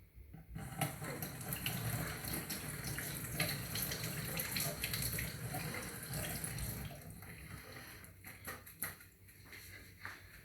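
Tap water runs steadily onto a removable part of a Krups EA81 coffee machine, a continuous splashing rush with small knocks and clatters as the part is turned under the stream.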